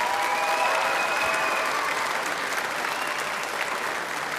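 Audience applause for a seventh grade middle school concert band at a spring band concert, a steady dense wash of clapping that slowly fades toward the end.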